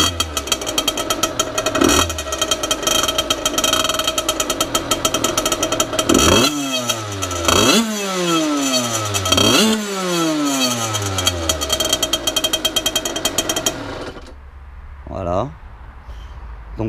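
A motorbike with a homemade exhaust, built from a leaky Yasuni pipe welded to an emptied stock silencer cartridge, idles with a rattling buzz, then revs hard several times in rising and falling sweeps before cutting off abruptly.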